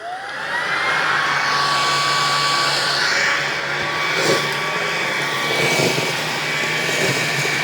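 A Bissell FurFinder vacuum running on high speed over carpet makes a loud, continuous whine and rushing airflow, steady throughout with slight shifts in tone as it moves, and no speech.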